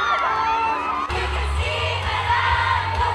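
An excited crowd of fans cheers, whoops and shouts at a Davao fan event as actor David Licauco approaches them while serenading. The roar is steady, loud and close throughout, and it swells after a sudden bang partway through.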